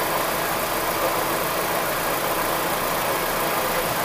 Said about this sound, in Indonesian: ini saya ngetesnya mesin udah saya nyalain kurang lebih 20 menit.